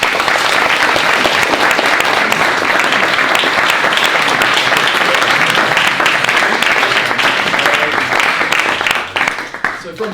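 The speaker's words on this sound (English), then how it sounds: "can we give them a huge round of applause?" Sustained, loud applause from a large audience, steady throughout and fading slightly at the end.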